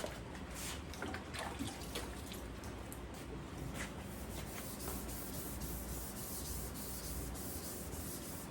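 Steady wet scraping and rubbing of a sanding block across the clear coat on a 1985 Jeep CJ7 panel, a continuous gritty swish with water, close and even in rhythm.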